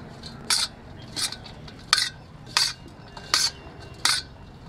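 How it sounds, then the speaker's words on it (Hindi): A spoon mixes a spicy chutney salad of mint leaves and finely chopped chilli, giving six evenly spaced, bright scraping clinks against the bowl over a quiet background, with no talking. "अब इन सभी चीज़ों को हम अच्छे से चम्मच से मिक्स कर देंगे।"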